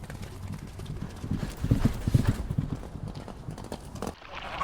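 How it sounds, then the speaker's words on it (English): Horse hooves clip-clop in a quick, uneven rhythm as horses run on a farm, moderately close and fairly loud, with no talking over them. "In the morning, the horses ran joyfully in the cool morning breeze."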